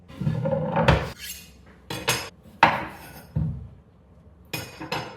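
Irregular knife chops on a cutting board while chopping vegetables for piccalilli, about six sharp thuds spaced a second or so apart, close by with a faint clink of utensils.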